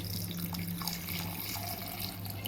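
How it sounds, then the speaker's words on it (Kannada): Cooking water from boiled chickpeas pours into a pan, a continuous close splashing, trickling rush with no voices. "ಈ ಕಾಳು ಬೇಯಿಸಿ ಇಟ್ಟಿದ್ನಲ್ವ, ಅದೇ ನೀರೇ ನಾನು ತಗೊಳ್ತಿದ್ದೀನಿ ಇಲ್ಲಿ ಸ್ವಲ್ಪ ಹಾಕಲಿಕ್ಕೆ"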